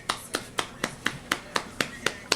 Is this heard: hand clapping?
yes